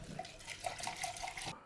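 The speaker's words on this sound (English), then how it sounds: "Let me just give it a wash." Water runs from a kitchen tap as a new item is rinsed, a steady close splashing stream lasting under two seconds with faint knocks against the sink, no voices.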